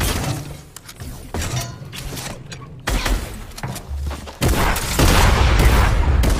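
Shotgun blasts in a video game come as repeated loud bursts of gunfire layered over dense game noise and booming impacts, dominating throughout.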